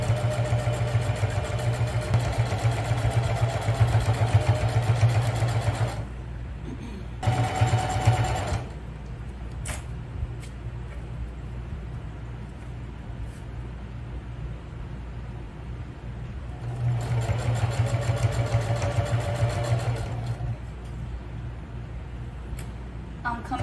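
A sewing machine stitches a fabric bag in steady, fast mechanical runs, pausing briefly twice before resuming, close and prominent, with low background noise in the quieter gaps.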